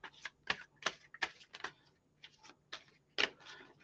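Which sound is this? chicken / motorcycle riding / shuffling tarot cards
shuffling tarot cards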